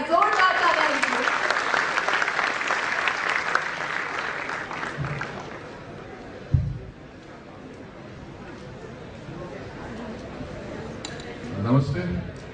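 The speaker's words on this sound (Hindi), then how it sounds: "जोरदार तालियां मिस्टर अमिताभ जी के लिए" Applause from the crowd at a young leaders' conclave in Indore as a speaker walks onto the stage. The clapping is loud and dense at first, thins out midway and then rises briefly again near the end.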